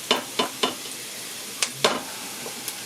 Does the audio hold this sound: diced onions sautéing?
yes